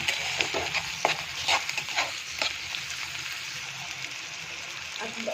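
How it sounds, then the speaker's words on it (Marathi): Onion and tomato frying in oil for a potato and green pea bhaji, a low sizzle broken by irregular spoon clinks and stirring scrapes, with some speech in the background. "कांदा भाजत आला की त्यात आपण टोमॅटो घालणार टोमॅटो पण चांगला असा मऊ करून घ्यायचा"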